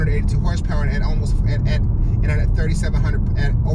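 The 182-horsepower non-turbo engine of a 2020 Subaru Outback Limited drones steadily from inside the cabin while the car drives, with a person talking over it throughout.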